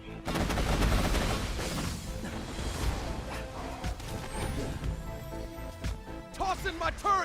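Turret gunfire in a video game fills the clip with dense bursts and crashing impacts, loud and continuous, while someone talks over the shooting.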